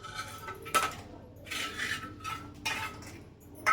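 A metal wok and utensils clink and scrape as a curry is put on to cook after fish frying, with several distinct clanks spaced apart over a soft background hiss.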